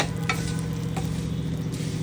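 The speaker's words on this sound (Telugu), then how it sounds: "అదే నెయ్యిలో సేమియా వేసి వేయించుకుందాం" Vermicelli stirred and fried in ghee for semiya kheer, a dense continuous sizzle with a few soft ladle scrapes, close and steady with no talk.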